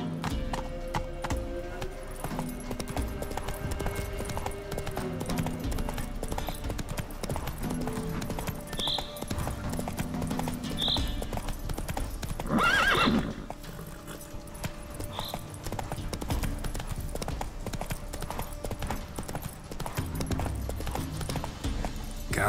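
Geralt's horse Roach in The Witcher 3 trots with a continuous, even clip-clop of hooves and a brief whinny partway through, with faint voices in the background.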